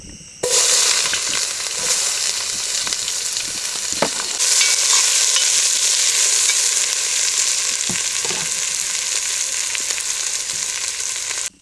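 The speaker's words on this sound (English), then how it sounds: "we added the chopped onions and stirred them well until they turned a beautiful golden brown" Chopped onions frying and being stirred in hot coconut oil in a cast iron pot at a riverside campsite, giving a loud, steady sizzle throughout with occasional scraping stirs and no talking.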